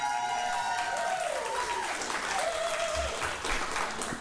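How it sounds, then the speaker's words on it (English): Studio audience clapping on a daytime talk show, a steady moderate wash of applause running throughout, mixed with a sliding tonal sound and faint background voices. "You're clapping now."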